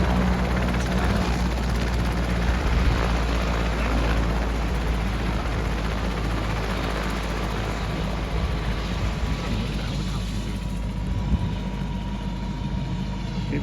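A medevac helicopter on a medical transfer lands in Black Rock, New Mexico, its rotor and engine roaring loud and steady throughout, settling slightly toward the end.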